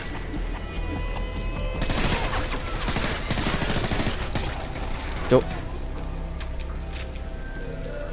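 Gunfire in the video game Call of Duty Modern Warfare 3, a dense burst of rapid automatic shots lasting a few seconds, followed by a single sharp report and quieter in-game ambience.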